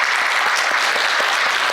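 A church congregation gives a loud, close round of encouraging applause, many hands clapping evenly with a few sharper individual claps standing out.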